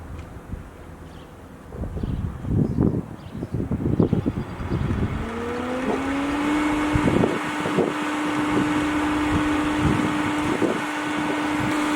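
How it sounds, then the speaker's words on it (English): A residential pool pump runs at high speed in a backyard swimming pool setup: a steady, fairly loud motor hum with a rising whine that settles into a constant drone, preceded by bursts of rustling and handling noise. "Okay, so that's how loud this is. It's almost as loud as I'm talking, but for a pool pump, it's not too bad."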